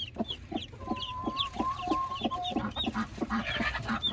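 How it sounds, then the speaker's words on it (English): A Wyandotte hen on a homestead clucks steadily beside her brood of eight or nine chicks. Their thin, high peeps chirp in and out over her low, rhythmic clucks, all close by. "There's the mama and her chicks."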